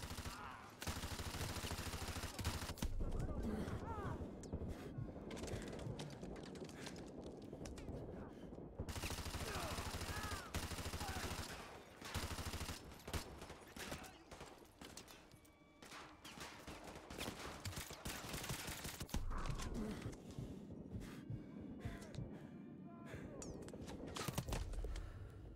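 A P90 submachine gun firing in Modern Warfare 2 Remastered: rapid automatic bursts repeat across the clip, broken by short pauses, with game sounds and occasional talk underneath.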